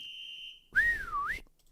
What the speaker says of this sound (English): I don't know how to say that. Whistle?